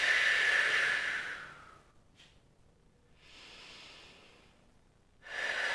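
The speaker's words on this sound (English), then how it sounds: "We're just going to take a few deep breaths here." Slow, deep breaths taken while holding a hip stretch: a long, airy exhale fades out, a quieter breath follows after a pause, then another strong breath begins. Close to the mic and with no talking.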